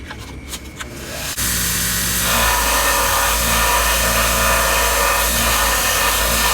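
A power grinder with 120 grit abrasive shaping the contours of a knife handle starts up abruptly after some quiet handling, then runs as a loud, steady, close whine with slight changes in load as the handle is pressed against it.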